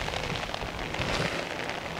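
Steady rain falls on a surface in the Saskatchewan woods during an evening bear hunt, a dense, continuous hiss with no pauses, close and fairly loud throughout.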